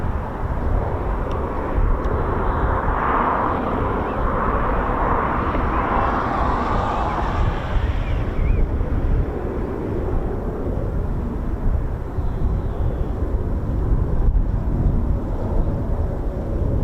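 A pair of military training aircraft take off together, a loud sustained roar of jet engines that builds, peaks and stays heavy throughout, with a broad rushing tone sweeping across the middle.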